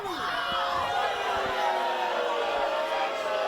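Wrestling arena crowd jeers and chants loudly at the champion, a dense continuous roar with faint voices mixed in.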